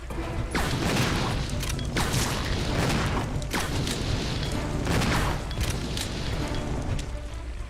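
Flame rounds from a grenade launcher in Resident Evil Zero: loud, continuous roaring bursts with repeated heavy booming impacts against the monster, filling the whole stretch without pause.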